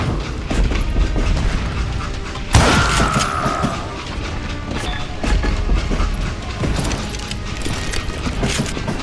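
A train rumbles along in the western shooter Call of Juarez: Gunslinger, a loud, continuous rolling roar of rail cars with metallic clanks and a screech partway through, steady and close throughout.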